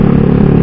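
Motorcycle aftermarket exhaust with its valve open, a steady loud low engine drone held briefly without talk.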